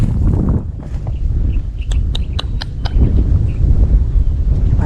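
Strong wind roars across open water full of water lilies during an airgun fishing outing, a steady low buffeting rush with a few faint bird chirps midway.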